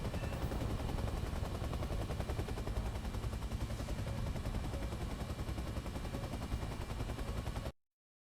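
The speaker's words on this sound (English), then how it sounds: "There's one right here, and he's shooting at me." An enemy fires steadily at a helicopter in a VR flight sim. Dense, continuous rapid gunfire runs loud and unbroken, then stops abruptly.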